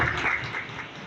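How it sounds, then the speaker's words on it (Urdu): A church congregation claps loudly together, a dense, sustained burst of applause filling the room. "اس کے جلال کے لیے زوردار تالیاں بجائیں"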